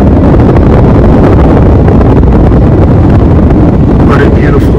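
Steady wind buffets the microphone at a boat landing on the water near Nain on a cool evening, a constant loud low roar filling the whole stretch.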